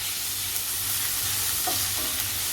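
Prawns sautéing in a pan with plenty of garlic, a continuous loud sizzle with stirring scrapes partway through, no voices.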